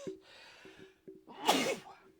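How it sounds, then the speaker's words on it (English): A single loud sneeze with a sharp inhaled buildup, close to the mic, after a brief breathy gasp. "I'm about to sneeze."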